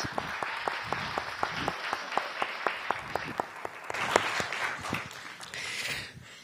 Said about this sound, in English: Please, one round of applause for our lovely guy